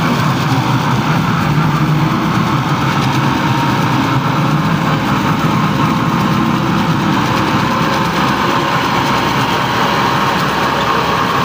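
A tractor engine labours under heavy load, a loud, steady low rumble running without a break for the whole stretch, close by, with no talk over it.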